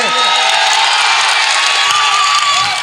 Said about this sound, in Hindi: एक एक आदमी की तालियों का शोर पटना तक जाना चाहिए, दिल्ली तक जाना चाहिए